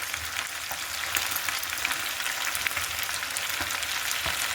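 Chicken meat fries in a pan with a continuous close sizzle and crackle, and occasional stirring noises break through the steady hiss, with no voices.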